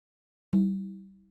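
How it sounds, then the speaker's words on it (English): A single answering conga hit from a sebene-style beat sounds once after a moment of silence, a clean resonant tone that rings and fades out over about a second. "so I must give it a reply with another conga."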